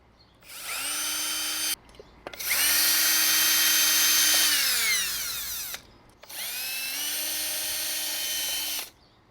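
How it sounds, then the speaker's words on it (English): A power drill whirs in three long bursts with brief pauses between, the pitch sagging as it loosens bolts on a 1990 Harley-Davidson Fat Boy motorcycle, loud and close. "take them off the rest of the way with the drill"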